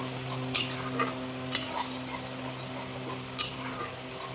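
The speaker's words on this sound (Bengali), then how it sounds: "এখন নাড়াচাড়া করবো, ভালো করে সাতলাবো মশলাটা।" A metal spoon clinks sharply against a pan three times while spices and turmeric are stirred and sautéed for a Bengali potol posto, the scraping taps crisp and close over a low, steady hum.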